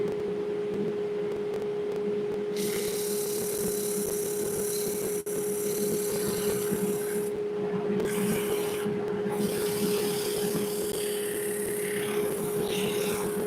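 Sandpaper of 320 grit rubbing a workpiece spinning in reverse on a lathe, a steady near scratching drone over the motor's constant hum, with brief breaks as the paper lifts.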